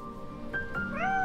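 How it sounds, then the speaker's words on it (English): A cat gives one short, rising meow, close and clear, over quiet game ambience in the horror farming game We Harvest Shadows, near an old, run-down spot on the farm. "Oh my God, it's a cat!"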